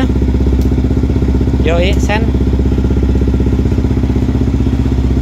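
A Yamaha WR155 motorcycle idles close by, its exhaust giving off a loud, steady, rapid low thrum throughout, while a voice briefly speaks over it.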